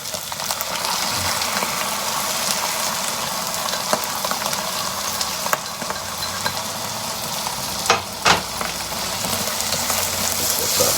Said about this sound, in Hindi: अब इसमें मैं डालूंगा चॉप टमाटो